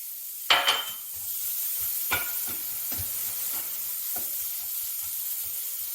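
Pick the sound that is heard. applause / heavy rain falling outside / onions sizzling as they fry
onions sizzling as they fry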